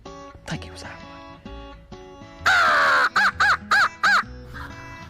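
A crow gives one loud, rasping caw followed by four shorter caws in quick succession, near and clear. Faint voices and woodland ambience are heard before the calls on a turkey-season morning.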